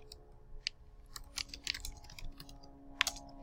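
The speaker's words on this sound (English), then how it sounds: "You just continue typing." Typing on a computer keyboard: a quiet run of irregular key clicks with a few sharper taps, close by but faint, over a low steady hum, with no voices.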